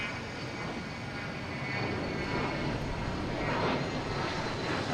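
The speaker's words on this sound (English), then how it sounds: "That's a private jet coming over us." A private jet passes overhead near Boston Logan Airport, a steady, broad roar that swells slightly as it comes over.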